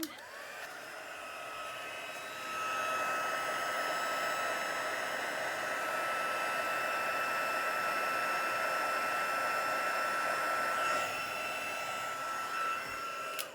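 A heat gun blowing steadily while heat embossing a handmade baby card, a continuous airy whoosh with a faint whine that swells louder after a couple of seconds and holds alone to the end.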